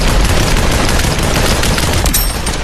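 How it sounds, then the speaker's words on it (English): Gunfire in the game Population: One comes as a dense, loud wash of rapid shots and crackling bursts with no clear gaps between them, mostly without talk. "Someone else is shooting."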